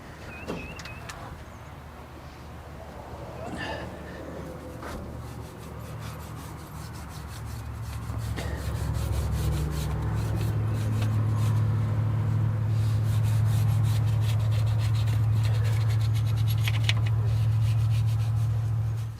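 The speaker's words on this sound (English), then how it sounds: "Then we're gonna hit it with a" Brush scrubbing the engine of a 1977 Chevy C20 pickup, close scratchy rubbing strokes, with a low steady hum building up beneath them partway through and no talking.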